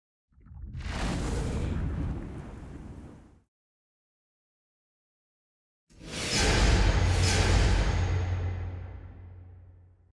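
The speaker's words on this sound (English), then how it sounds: "this here is more surreal sound design to add some weight and some depth to the film" Two heavy cinematic booms with deep bass, each a surging, explosion-like rumble lasting a few seconds and separated by silence, the second louder with a sustained low hum as it fades.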